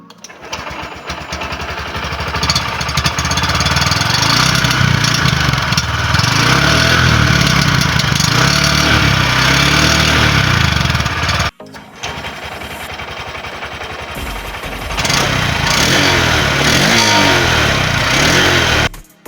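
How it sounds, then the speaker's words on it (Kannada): A Honda SP 125 motorcycle engine running up close: a loud, steady single-cylinder idle hum that rises into sustained revving, cuts out briefly, then restarts and revs again, with no talking over it. "ಇಂಜಿನ್ ಸೌಂಡ್ ಕೇಳೋಣ ಬನ್ನಿ ಎರಡರಲ್ಲೂ."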